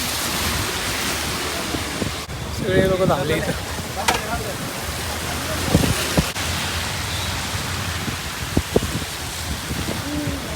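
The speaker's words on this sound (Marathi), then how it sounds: "पाऊस यायला लागला अचानक जोरदार" A sudden heavy downpour pours as a dense, steady hiss, with a few sharper splashes and knocks, while someone speaks briefly over it.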